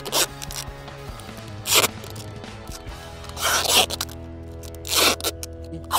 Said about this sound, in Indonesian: ini kita gunakan solasi yang bening ya, atau lakban yang bening guys